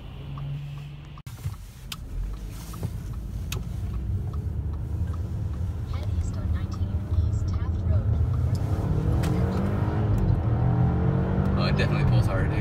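Audi A4 with a Stage 1 APR tune and turbo accelerating on the road, a steady engine drone building in loudness heard from inside the cabin, with people talking over it.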